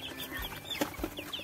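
Free-range village chickens on a small kampung poultry farm cluck softly and intermittently, with a few short, sharper calls standing out against a quiet outdoor background.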